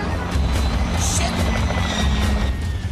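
Helicopter in a film scene, a steady throbbing rotor drone with dense low chopping pulses and a broad whooshing wash, loud and continuous with no voices over it.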